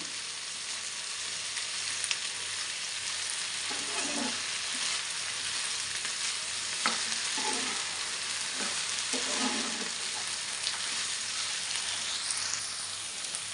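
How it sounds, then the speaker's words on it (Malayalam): Okra and potato pieces fry in a pan with a steady, close sizzle and hiss throughout, broken by a few soft scraping stirs, with no talking over the cooking. "ഇതൊരു ഹാഫ് കുക്കായി വരുന്നത് വരെ നമുക്ക് വെയിറ്റ് ചെയ്യാം. ഇടയ്ക്കിടയ്ക്ക് ഇളക്കി കൊടുക്കണം."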